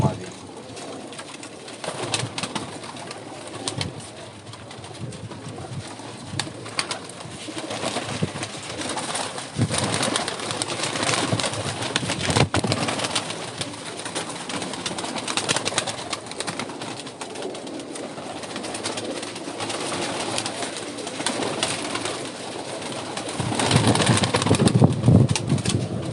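Pet pigeons, a male and a female, coo softly on a rooftop loft, with occasional wing flaps and people talking nearby.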